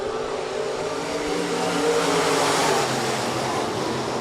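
USRA B-modified race cars roaring around the dirt track at a speedway during a heat race, a dense continuous engine drone from the pack with no break, no voices.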